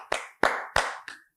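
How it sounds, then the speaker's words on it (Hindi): Four sharp, distinct claps ring out close by at a steady pace to applaud Aamna, and the last one is softer. No one speaks. "इस मौके पे आमना के लिए तालियां"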